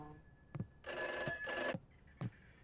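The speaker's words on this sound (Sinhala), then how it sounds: "ෆෝන් එක රින් වෙනවා" A telephone bell rings in two loud bursts, close by, with a few soft knocks before and after.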